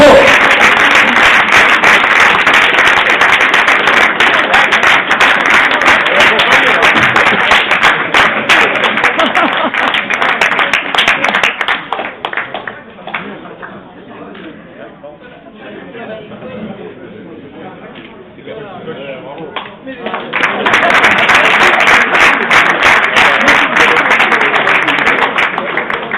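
Loud, sustained audience applause at a sports awards ceremony for local athletes, a dense wash of clapping that dips to scattered claps and murmurs midway before swelling again to full strength.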